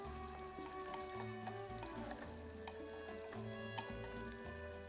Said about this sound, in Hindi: प्याज को भी चलाती रहिए।